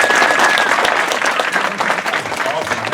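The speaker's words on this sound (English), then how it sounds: "I want a round of applause for all the comics you've seen tonight." Audience applause at an open mic comedy show, a dense, steady wash of clapping from a crowd that stays loud throughout, with some voices mixed in.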